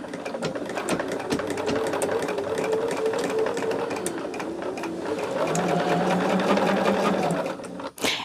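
A sewing machine runs continuously while stitching quilt blocks together, a close, steady whirring hum with a rapid needle rhythm that shifts pitch slightly midway, then stops briefly near the end.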